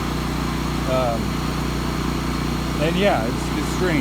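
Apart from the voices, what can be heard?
Miller Trailblazer welder generator engine revved up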